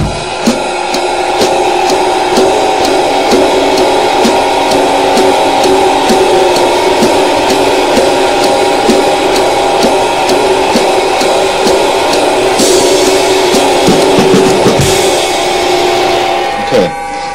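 A drummer plays a cymbal with sticks at a steady tempo, even repeated strokes over a bright, sustained wash, with a voice speaking over it.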